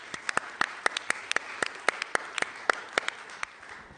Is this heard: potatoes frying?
no